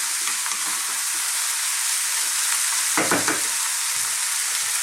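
Beans being stirred into a vegetable chili in a hot pan, with a constant sizzle and a brief burst of wet scraping and clattering from the spoon midway, close and clear, with no talking.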